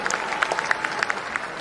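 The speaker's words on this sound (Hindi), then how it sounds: "राममणि चंद्रवंशी जी का एक जोरदार ताली से स्वागत करिए" An audience in a large Patna auditorium claps loudly and continuously to welcome a speaker at a political party workshop, a dense burst of applause with a few sharper claps standing out.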